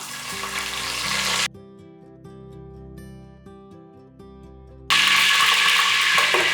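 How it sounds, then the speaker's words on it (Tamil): Mint leaves frying in hot oil for a pressure-cooker mutton biryani, giving a loud bubbling sizzle at the start and end, with a stretch of music in between. "இதில் கொஞ்சமாக புதினா இலையை அந்த எண்ணெய்க்குள்ளே போட்டுடலாம்"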